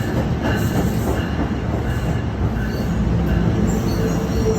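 A train rolls into a New Jersey station with a loud, steady rumble of wheels on rails and faint squeals and clatter, close by and unbroken, with no talking.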